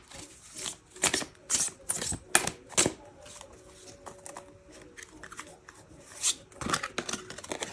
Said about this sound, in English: give it a little shuffle, and then we'll pick our cards.